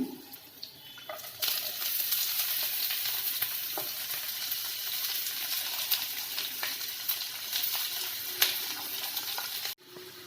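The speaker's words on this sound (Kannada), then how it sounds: "ಈಗ ನಾನು ಈರುಳ್ಳಿ ಹಾಕ್ಕೊತಿದ್ದೀನಿ" Onions frying in a pan with oil and green chillies for a soya bean chicken dish: a steady, dense sizzle that runs continuously and close, with occasional stirring scrapes and no talking.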